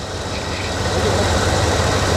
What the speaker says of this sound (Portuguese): Motor V8 351.